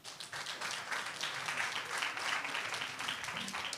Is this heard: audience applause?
yes